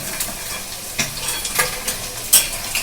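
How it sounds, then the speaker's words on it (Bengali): Paneer cubes fry in hot oil with a steady sizzle while a few sharp scrapes and clinks sound close by as the pieces are lifted out of the pan. "দেখুন আমি কিন্তু সুন্দর করে ভাজা হয়ে গেছে আমার পনিরগুলো এগুলো আমি কিন্তু তুলে নিচ্ছি"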